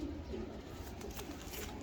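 A Lal Pari pigeon coos softly and repeatedly at close range, low rounded calls pulsing over a faint steady background with no talking.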